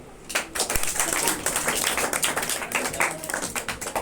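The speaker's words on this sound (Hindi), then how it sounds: "बजाओ ताली" A class of students claps in a teacher-led Sanskrit lesson, a dense, steady patter of many hands lasting several seconds at moderate distance, starting softly and then holding level.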